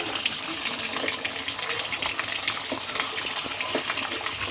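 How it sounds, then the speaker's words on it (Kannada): Tap water gushes steadily while methi and palak leaves are washed, a loud continuous splashing close by. "ಇವಾಗ ಸೊಪ್ಪು ತೊಳೆಗೆ ಇಕ್ಕಿದ್ದಾರೆ."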